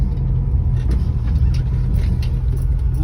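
A 1963 Ford Falcon Futura drives and turns, its engine a steady low rumble heard from inside the car, with road noise holding even throughout and no talk.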